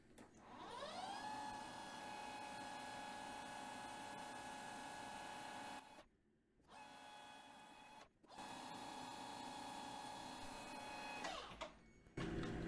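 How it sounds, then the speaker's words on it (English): A lathe or similar machine tool cuts a shallow counterbore and chamfers the end of a small metal part, giving a steady whining hum with harmonic tones that drops out twice briefly before resuming, with no talking. "cut the shallow counterbore and chamfer the end of the part."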